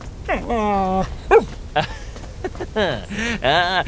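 Cartoonish dog barks, yips and whimpers from a video game character, a suitcase-sized dog in Little Orpheus, rising and falling in several short bursts, fairly loud and close.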